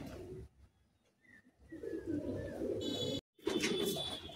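Madrasi pigeons coo softly in a loft in Bagnan near Kolkata, their low, rolling calls repeating against faint background rustle and a brief high chirp.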